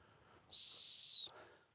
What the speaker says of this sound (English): So now we're gonna do a sit whistle.